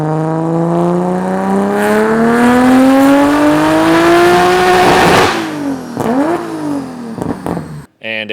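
A Nissan Skyline R32 with a tuned engine of about 500 horsepower running on racing fuel revs hard, its pitch climbing steadily before dropping off, followed by sharp quick blips of the throttle, loud and close.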